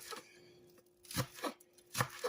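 A knife chops sweet, mild onions on a cutting board in a few separate bursts, three distinct clusters of close, crisp strikes with quiet pauses between them.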